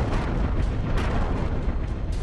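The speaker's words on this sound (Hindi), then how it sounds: "धमाका।" Bomb strike explosion in a Gaza war zone: a sustained, heavy rumbling boom with continuous roaring blast noise and debris, loud and broadband throughout with no voices.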